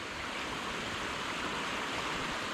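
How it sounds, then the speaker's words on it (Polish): A small stream in Krynica-Zdrój running after a heavy downpour and flood, giving a steady, close rushing wash of water with no let-up and no voices. "Ale strumyczek jest zdecydowanie mniejszy"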